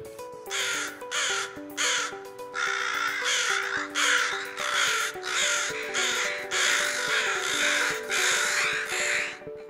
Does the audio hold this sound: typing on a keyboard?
no